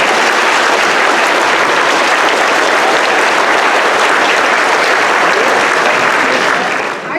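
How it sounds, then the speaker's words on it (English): A school concert audience applauds kindergartners walking onto the stage, loud, dense, sustained clapping that fills the room steadily and starts to fade only at the very end. "Let's give them a big round of applause and Miss Hinkle."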